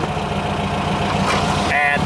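A Volkswagen engine with carburetors and an individual exhaust system idles nearby, a steady rumbling throb with a brief faint voice near the end.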